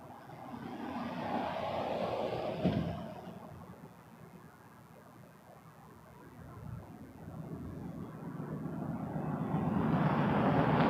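Air Canada A220 airliner on approach to land on runway 24 left at Toronto Pearson, its engine roar swelling, easing off mid-pass, then building again into a steady loud rumble.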